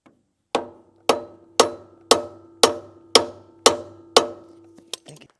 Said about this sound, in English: Maybe some heavier hits with a bigger hammer.